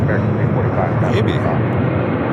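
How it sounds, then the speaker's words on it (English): A Delta Boeing 757 jet taking off at LAX, a loud, broad roar of engine thrust filling the whole short stretch, with a voice speaking over it. "Also had that Delta 757 heading to Reagan National taking off."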